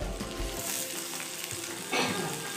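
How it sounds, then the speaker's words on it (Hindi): Green chillies and ginger sizzle in hot oil, a steady close hiss of frying with a brief louder burst of crackle near the end, no voices over it. "मिर्च, हरा मिर्च और अदरक, इसको अभी डाल देंगे तेल में"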